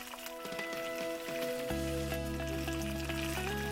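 Onions and tomato paste fry and get stirred in a pan for a village-style chicken jhal, giving a steady close sizzle with light scraping, and a constant hum of tones underneath.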